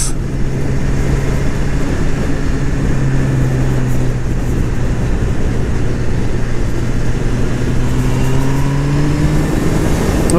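A Honda CB1000R motorcycle engine drones loudly and steadily under wind rush while riding, the pitch gliding down as the throttle is eased off and then rising again, with no speech.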